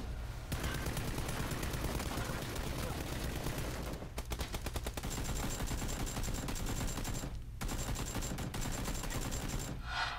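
Continuous full-auto gunfire from PUBG on Xbox rattles loudly and steadily for most of the stretch, with brief gaps between bursts.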